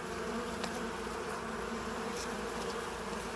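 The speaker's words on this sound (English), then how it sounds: "You have a separate colony of bees inside here." Honey bees from a separate colony inside a house wall give a steady, close insect hum that fills the whole stretch without a break, with no talk over it.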